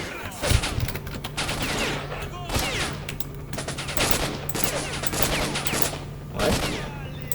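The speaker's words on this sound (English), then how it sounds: "he is shooting at me" Enemy gunfire in the video game Stalker: Shadow of Chernobyl: loud bursts of automatic shots in several volleys over about seven seconds, with a steady low hum running beneath.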